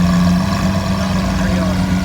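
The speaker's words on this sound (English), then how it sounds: "Capristo exhaust on the SV." Lamborghini SV fitted with a Capristo exhaust idles at a car meet, a steady low rumble holding constant and close throughout, with faint crowd chatter behind.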